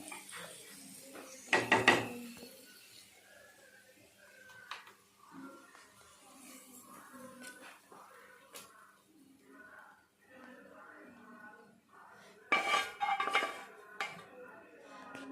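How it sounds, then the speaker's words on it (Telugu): Chicken curry being stirred in a pot, with a couple of sharp metallic clanks of utensil against pan standing out among softer scraping and low household background. "ఇప్పుడు దీన్ని తీసి కర్రీలో కలిపేస్తున్నారు"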